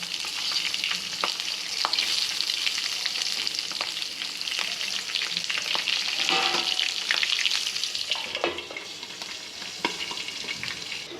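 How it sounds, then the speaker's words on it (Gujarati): Stuffed chillies frying gently on a low flame make a continuous close sizzle with soft crackles and occasional light stirring clicks throughout, no voices. "મરચાં જે આપણે ભરીને રાખ્યા હતા એ નાખીશું આને આપણે ધીમા તાપે ચડવા દઈશું"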